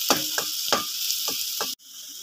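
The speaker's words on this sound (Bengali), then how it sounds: "এখন আমি চাউমিনগুলো দিয়ে দেবো।" Chowmein tipped into a pan of frying potatoes and vegetables, making a short run of sharp, rhythmic scraping stirs over a steady sizzle before cutting off.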